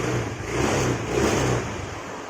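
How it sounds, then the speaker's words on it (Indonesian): A carbureted Honda Vario scooter engine idles without a battery fitted, a steady, close mechanical hum that swells slightly twice, running alone with no voices. "ini motor langsung nyala normal ya, walaupun tanpa menggunakan aki sekalipun tuh"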